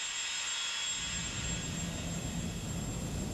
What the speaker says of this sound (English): The filtered air is then compressed, and this powerful compressor forces the gas stream through the process.